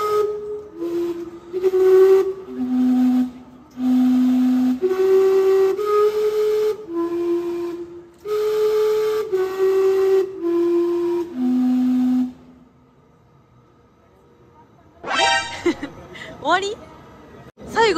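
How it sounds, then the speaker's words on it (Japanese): Gastown steam clock in Vancouver, built in 1977, plays a sequence of steam-whistle chime notes in a clear melodic pattern, then pauses before a short burst of hissing steam and whistle blasts at the end. "この蒸気時計は1977年に作られて"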